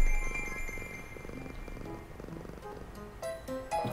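A cat purrs in a video game level, a soft rhythmic rumble that continues steadily, with a few faint game sounds near the end.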